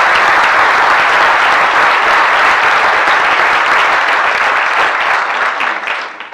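Loud, sustained applause from an audience at a bird photography awards presentation, dense clapping throughout that begins to thin and fade in the final second.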